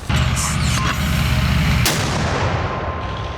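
A single loud, deep boom of a Ukrainian 95th Brigade mortar firing close by, with a sharp report and a rumbling tail.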